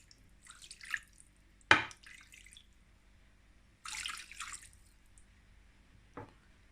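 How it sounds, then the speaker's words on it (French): A glass of water poured over a leg of lamb in a roasting dish: brief splashes and trickles in separate bursts, close and fairly quiet, with a couple of sharp knocks between them. "Ensuite, je mets un verre d'eau."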